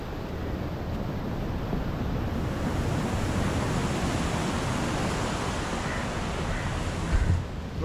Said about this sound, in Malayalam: ഏറ്റാവും തോറും കടൽ കുറേശ്ശെ കയറി വരുന്നുണ്ട്